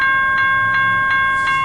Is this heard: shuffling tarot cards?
no